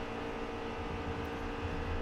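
Race truck engine in NASCAR Heat 3 at Michigan, droning at low revs as it bogs down mid-corner, a steady muffled hum with faint hiss, no speech.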